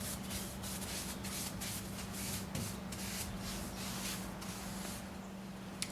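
Brushing dust and debris from the crevices of a distressed piece of furniture finished in Annie Sloan chalk paint, a steady close scratchy rubbing that carries on without a break over a low constant hum.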